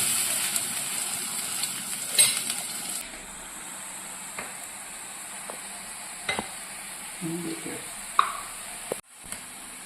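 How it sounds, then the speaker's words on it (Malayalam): Onion, garlic and ginger sauté in a pan for a chilli fish curry, giving a low, steady sizzle broken by scattered clicks and scrapes of a stirring spoon, with a sharp knock near the end. "ഉള്ളിയും വെളുത്തുള്ളിയൊക്കെ നന്നായിട്ട് വഴറ്റി വന്നിട്ടുണ്ട്."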